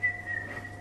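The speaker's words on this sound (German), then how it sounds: "Wer kann denn da so gut pfeifen?" A person whistles in a home kitchen during baking, a short, clear two-note whistle, steady and close, with a low hum underneath and no talk.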